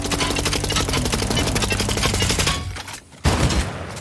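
Rapid bursts of gunfire from the video game Fortnite, loud and dense for nearly three seconds, then a brief drop before another loud burst closes the clip.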